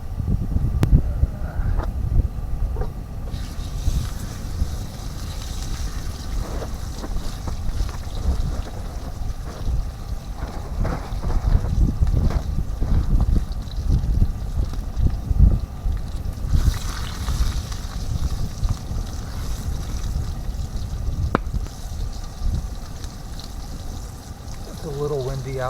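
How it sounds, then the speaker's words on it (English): Steady wind gusting and buffeting outdoors on a frozen lake shore, a constant rushing roar with low rumble, loud and close, no speech. "A little windy out"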